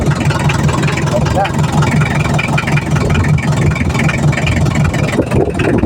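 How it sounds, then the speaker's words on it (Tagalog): A boat engine running loudly and steadily at close range, a constant low mechanical drone with people talking faintly over it. "Maandar na ang ating makina."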